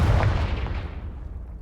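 A Confringo spell blast in Hogwarts Legacy, a single heavy boom with a deep low rumble that decays over a second and a half.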